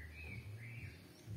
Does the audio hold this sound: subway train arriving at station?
no